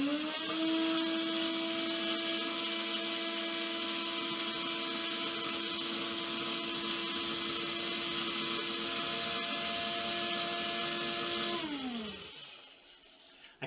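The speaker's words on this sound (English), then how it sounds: "we're going to grind it to a soft powder" Electric grinder pulverizing dried herbs into powder, a steady high-pitched motor whine held for about twelve seconds before winding down and stopping, close and loud, with no talking.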